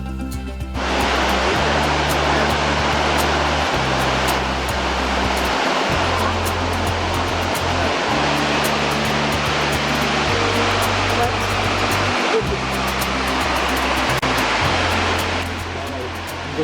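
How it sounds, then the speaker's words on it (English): Snoqualmie Falls in Washington State roars as a powerful, constant rush of falling water, with a low droning tone that shifts in steps beneath it. "How do you call this waterfalls? Snoqualmie."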